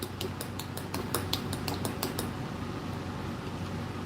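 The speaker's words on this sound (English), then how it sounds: "scrape it up and then scrape one spoon off with the other" One metal spoon scraping melted melt-and-pour soap off another, a quick run of sharp, close clicks and scrapes for about two seconds, then only a steady low hum.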